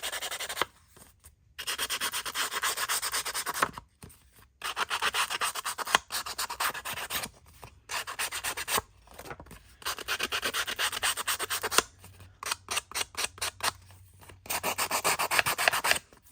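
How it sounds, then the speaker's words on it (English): Paper card edges are roughened by rubbing, giving repeated close scratchy abrasive strokes in bursts separated by short pauses, some quick and choppy, with no talking. "maybe I'm just going to kind of roughen it up on the edges a little bit here"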